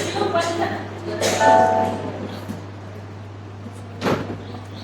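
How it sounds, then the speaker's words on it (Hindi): A door is shut during a Sunday church service, a single sharp thud near the end that follows a few voices, with a steady electrical hum running underneath. "दरवाजा बंद करना बेटा।"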